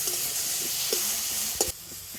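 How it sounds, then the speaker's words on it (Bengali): Tomatoes frying in oil are stirred in a pan, a steady close sizzle carrying faint scrapes and soft knocks of the stirring utensil. "আর তেলের মধ্যে এরকম নাড়াচাড়া করলে দেখবেন টমেটোটা কিন্তু খুব সুন্দর নরম হয়ে যাবে"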